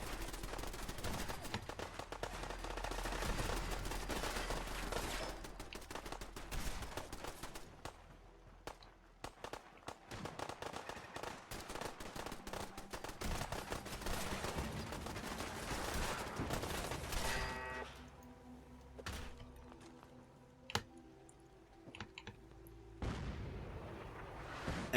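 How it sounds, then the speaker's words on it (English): Minutemen artillery barrage in Fallout 4, a run of booming impacts and crackling blasts that starts dense and heavy, thins into scattered sharp hits, then returns in a few louder separate bangs. "what you're going to see here is that the artillery is going to start coming down"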